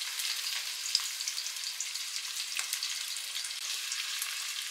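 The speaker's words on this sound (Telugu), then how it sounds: "ఇవన్నీ బాగా బ్రౌన్ కలర్లో ఫ్రై అయ్యే వరకు వేగించుకోవాలండి." Whole spices such as cloves and cinnamon fry in about 100 ml of hot oil for chicken dum biryani, a soft, even sizzle with faint crackles and pops, close but quiet and steady throughout.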